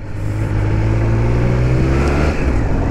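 A 2021 Triumph Speed Triple RS motorcycle engine runs loud and close, a deep steady throbbing drone that rises slightly in pitch as it pulls along, with no talking over it.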